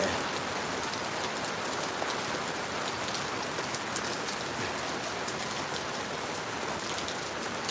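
Steady rain falls outside, a dense, even hiss of drops striking surfaces that holds at constant loudness throughout, with no voices.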